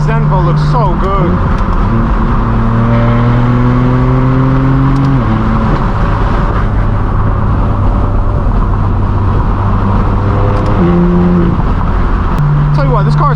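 Straight-piped BMW M4 F82 accelerating during a supercar rally chase, a loud, close exhaust drone rising in pitch through the gears with brief shift breaks, heard steadily from inside the car across the whole stretch.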